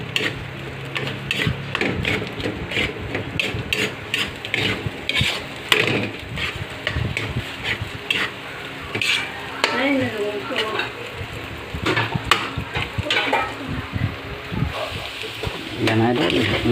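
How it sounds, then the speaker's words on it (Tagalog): An eggplant dish is stirred in a pan with rapid, uneven clatters and scrapes of a utensil over a steady sizzle, while a voice talks now and then. "Tapos haluin natin. Halo-haloin lang mga idol."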